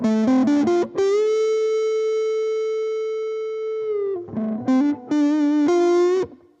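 An electric guitar runs through a JHS distortion plugin by Mixwave with the drive turned down, playing a few quick picked notes, a long sustained held note that slowly fades, then another burst of short notes, clear and alone.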